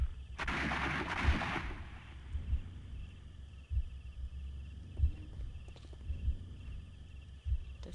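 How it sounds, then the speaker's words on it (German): Gunshots are reenacted in the Sherlock Holmes: Crimes and Punishments video game: a muffled burst of noise, then a string of dull, evenly spaced booming shots with faint ambience between them. "Die Schüsse nachstellen."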